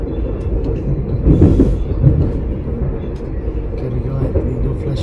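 A train at a small railway station in Ida-Virumaa, Estonia, its steady low rumble and rail noise running throughout at moderate distance, with a brief louder clatter midway and faint voices in the background.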